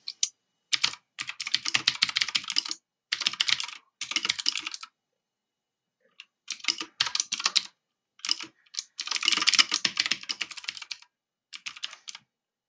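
Typing on a computer keyboard while writing a reply to a GitHub issue: bursts of rapid, close key clicks with brief pauses between words and phrases, no voices.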